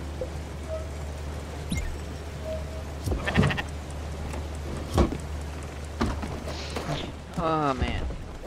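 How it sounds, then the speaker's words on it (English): Sheep bleat in the video game Spiritfarer: a few short, wavering cries scattered over a steady low hum of game background sound. "All you sheep are fed."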